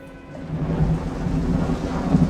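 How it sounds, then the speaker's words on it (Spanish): Rain falling in a dense jungle with a deep, rolling thunder rumble that swells and holds, loud and close, over a steady hiss of rainfall, with no voices. "en medio de la densa selva, mientras que todavía caía la lluvia"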